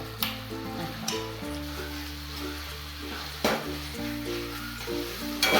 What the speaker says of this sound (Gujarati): મસાલો સંતરાય ત્યાં સુધી આ બટાકા મેચ કરી દઈશું આ રીતે